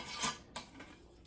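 A lid placed onto the glass jar of a homemade Dollar Tree gumball machine makes a few short, close clinks and scrapes: one sharp clink, then a second knock and a faint rattle.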